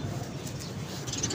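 Soft, low cooing of Ferozpuri golden pigeons comes through faintly, repeated in short murmuring bursts over a steady background hum.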